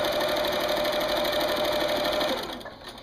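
A sewing machine stitches binding onto a quilt in a steady, rapid mechanical chatter, loud and close, running continuously before slowing and winding down near the end.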